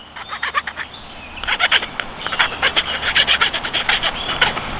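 Hand file on a Workpro 18-in-1 budget multitool rasping back and forth in quick, uneven strokes, close and fairly loud, with short bursts of scraping repeated over a few seconds.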